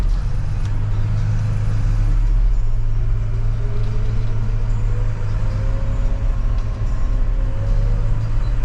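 A tractor towing a farm implement drives along the road home, its engine a steady low rumble and drone throughout, close and continuous with no talk.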